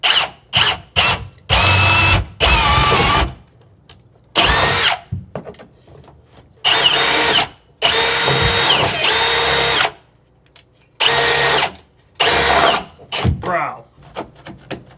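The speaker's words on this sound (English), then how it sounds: "Okay, so I needed to make another hole down there for electrical." Power drill boring a 3/4 inch hole through wood framing for electrical wiring, running in repeated loud bursts of a few seconds each separated by short pauses, close by.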